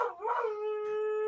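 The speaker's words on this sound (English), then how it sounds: "She howls with her toy in her mouth." A dog howls with a toy held in its mouth, making a muffled, wavering start that settles into a long sustained tonal howl, close and alone.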